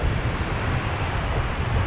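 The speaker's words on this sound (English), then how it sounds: "we were expecting gusts of 65 k's an hour, and it was really pushing a swell and waves." Strong coastal wind gusts of about 65 km/h buffet the microphone over surging swell and breaking waves on Moreton Island, a loud, continuous roar with no talk.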